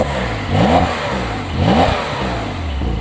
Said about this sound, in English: We also get an active exhaust here on the 911 Dakar, and Tedward just so graciously demonstrated